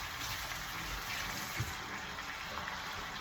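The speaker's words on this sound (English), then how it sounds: "I'm going to rinse them off." Onions rinsed under a running kitchen tap, a faint continuous splashing stream of water with a small clatter partway through.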